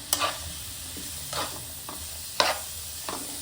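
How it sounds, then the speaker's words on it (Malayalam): Boiled broccoli and sweet corn go into a pan of cheese spaghetti sauce, giving soft sizzling and a few sharp stirring clatters of a utensil against the pan, close and fairly quiet. "ഇതിലോട്ട് നമ്മൾ ബോയിൽ ചെയ്ത് വെച്ചിരിക്കുന്ന ബ്രൊക്കോളിയും സ്വീറ്റ് കോണും കൂടി ഇട്ട് കൊടുക്കാം."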